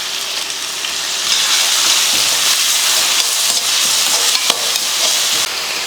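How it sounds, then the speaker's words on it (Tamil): Chopped large onions drop into hot oil and fry with a loud, steady sizzle. The sound starts at once and keeps a dense crackle throughout, with a few sharper pops and spatters. "எண்ணெய் காஞ்சதுமே 2 பெரிய வெங்காயம் வெட்டியிருக்கேன், அதை சேர்த்துடலாம்"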